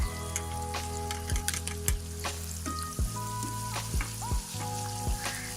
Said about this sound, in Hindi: 1 मिनट के लिए इसे ऐसे फ्राई करना है।